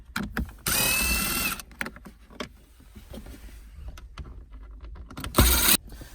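A power drill backs out Phillips screws from the SRS airbag control module of a Hyundai Santa Fe, with two loud whirring bursts of about a second and half a second separated by clicks and handling knocks.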